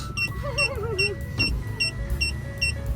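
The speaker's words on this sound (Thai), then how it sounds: "ทางออกกระจกลง" A car's power window motor whirs steadily for a short stretch inside the cabin, set against a low engine hum and a rhythmic beeping chime.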